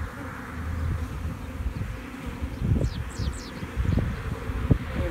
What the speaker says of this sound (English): Man, there's a lot of bees all over this.